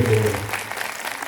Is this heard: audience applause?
yes